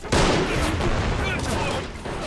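A loud, dense exchange of gunfire in the Army Men of War video game, with rapid overlapping shots and explosions through the whole stretch.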